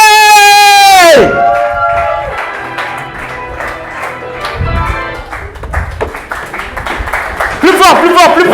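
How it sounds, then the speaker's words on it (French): A comedy-show crowd breaks into loud applause for a comedian from Kinshasa as he enters, a thick wash of clapping that follows a host's voice, with shouts mixed in and talk returning over the end. "on applaudit très fort pour mon frère qui vient de Kinshasa"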